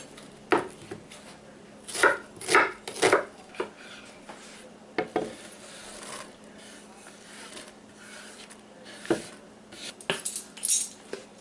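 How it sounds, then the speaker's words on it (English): Onion being chopped with a knife on a board for Southern baked beans, close, irregular clusters of knock-like cuts separated by quiet pauses. "We're gonna need to chop 1 onion."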